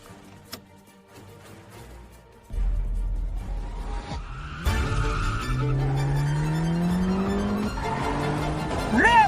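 A car in a dubbed racing drama brakes hard: a deep engine rumble kicks in, then loud tire squeal rises in pitch and holds for several seconds, with no talk over it.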